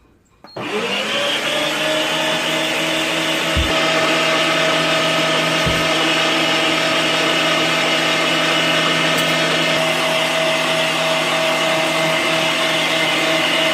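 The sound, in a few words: Ava Pacific electric meat grinder grinding chicken and pork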